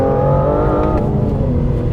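A 5.2-litre twin-turbo V12 in an Aston Martin Vanquish pulls hard under acceleration, a loud, close, rising engine roar with a deep throbbing tone that holds steady throughout.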